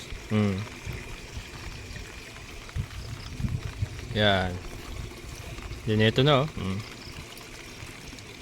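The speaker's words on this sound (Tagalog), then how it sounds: "Nakatodo na yung ating gripo, hindi na pigil yan" Water gushes steadily from a fully open tap, a continuous pouring rush running under a man's intermittent speech.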